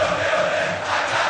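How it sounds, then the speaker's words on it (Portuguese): Vasco supporters roar in the stands at the Colina Histórica stadium as their team leads Duque de Caxias in the 2011 Carioca championship, a dense, loud, sustained wash of crowd noise with no distinct voices. "Tá feliz da vida a torcida vascaína."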